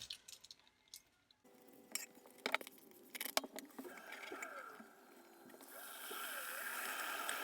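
Cleaning water mixed with rice drains out of a radiator expansion tank, starting with a few clinks and knocks, then building into a steady trickling, gurgling pour that grows louder toward the end.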